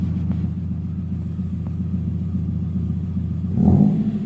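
Inside the cabin of a 1994 Toyota Corolla with the engine running, a steady low rumbling drone that swells briefly near the end, heard alone.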